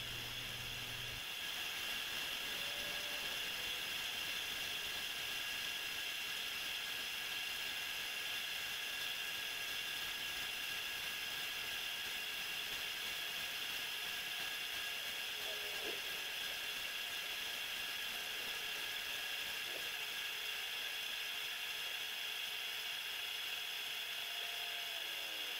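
An old, worn bandsaw blade cutting through metal gives a steady, continuous high-pitched whine and hiss, holding level for the whole stretch with a few faint clicks and no talking.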